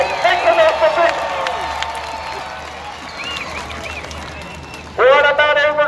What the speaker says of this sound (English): Make some noise for Bigfoot.